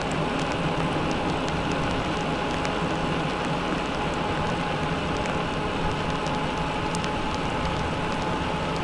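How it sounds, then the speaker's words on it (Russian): Steady, dense heavy rain drums hard on a surface during a bicycle ride in Tatarstan, a constant hiss with scattered drop ticks, and a low rumble of a moving vehicle underneath. "Вот, под сильный дождь поехал."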